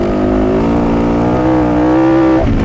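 A Fantic 450 Rally motorcycle engine revs hard and loud close by, its pitch climbing and holding in a sustained high note before dropping off at the end.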